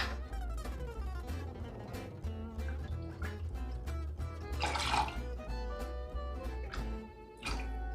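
Apple cider pours into a cocktail glass for an apple pie Moscow mule, a steady close gurgling stream of liquid that runs for several seconds, with a brief splashier burst midway.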